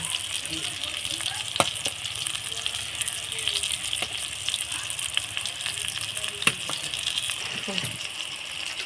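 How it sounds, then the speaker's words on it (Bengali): Fish roe fritters fry in oil in a pan, a steady close sizzle throughout, with a few sharp clinks and scrapes as they are turned over; a voice talks briefly beneath the frying. "আমি আবার আর এক পিট করে উল্টে দিয়ে ভেজে নেব"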